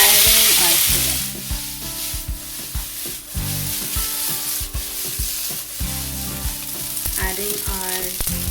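Cooked spaghetti is tossed into a hot pan of browned zucchini for a green goddess pasta, bringing sizzling and frying under repeated scraping, stirring and rhythmic tossing strokes, close and fairly loud.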